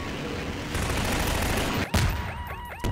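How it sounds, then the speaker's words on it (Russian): Video game gunfire in a Garry's Mod horror match against skeletons: a dense, continuous roar of rapid shots, with one sharp louder burst near the end. "Стреляем, стреляем, стреляем."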